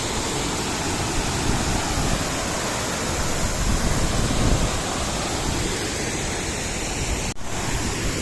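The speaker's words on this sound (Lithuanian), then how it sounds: "Štai mes ir susidurėme su kriokliu akis į akį." A waterfall in Kenya roars up close, a dense, steady rush of crashing water that fills the whole scene without any break.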